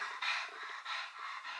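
A dog pants rapidly and steadily in short, breathy bursts, close and fairly loud, with no voices over it.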